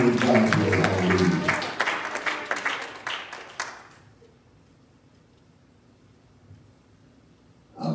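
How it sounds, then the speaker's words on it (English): A church congregation applauding during a bishop's sermon: dense, lively clapping for about four seconds that thins out into a quiet room, with a brief rise in sound at the very end. "Will you clap in?"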